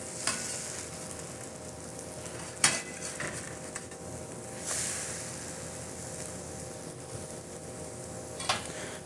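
A pancake sizzles quietly on a hot griddle after flipping, a soft steady fry with a few sharp clinks of a utensil scattered through it.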